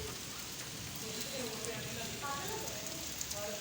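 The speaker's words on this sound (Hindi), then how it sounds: "बाहरों हम बारिश दिखाते हैं" Rain falls steadily outside in a constant soft hiss of drops on surfaces, with faint voices talking in the background.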